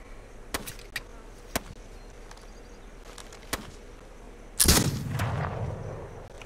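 Gunshots in the survival game This Land Is My Land: several sharp, isolated shots spaced irregularly, then a louder, longer burst of firing that trails off, with no talk over it.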